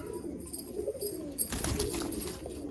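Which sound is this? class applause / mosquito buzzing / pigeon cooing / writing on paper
pigeon cooing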